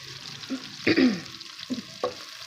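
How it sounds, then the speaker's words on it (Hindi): Onions and two green chillies fry in a pan, a soft background sizzle punctuated by several close spatula scrapes and clanks, one with a squeaky metallic edge. "इसके अंदर हम इस तरीके से प्याज को फ्राई करेंगे।"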